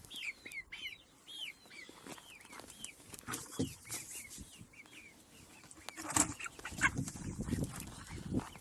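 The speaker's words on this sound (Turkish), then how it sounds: "Ve şimdi tavuklarımızı açacağım." Chickens cluck and squawk in quick bursts, several birds close by, with rustling and scratching noises growing busier toward the end.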